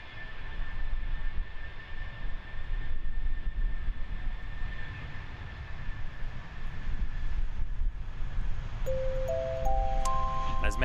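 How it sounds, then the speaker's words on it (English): A Jetstar jet airliner at full takeoff thrust at Christchurch Airport produces a sustained low rumbling roar, steady and moderately distant, with a rising series of tones near the end. "Full noise here on Jetstar."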